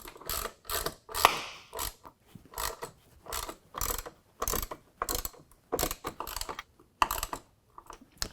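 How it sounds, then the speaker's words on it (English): A ratchet with a 13mm socket tightens side step bracket bolts for Go Rhino Dominator D1 steps on a 2016 Ford F-150 Crew Cab, giving close, rhythmic bursts of metallic clicking, roughly a dozen strokes with brief pauses between. "tighten down all the hardware using a 13mm"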